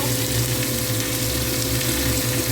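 Dry red chilli paste goes into a pan of frying sorputi fish curry, raising a loud, continuous close-up sizzle. The hissing crackle stays even and unbroken throughout, with no voices.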